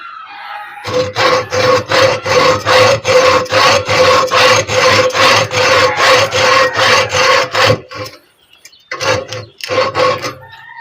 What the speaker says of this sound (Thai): เลื่อยแบบนี้ก็เลื่อยได้นะครับแบบนี้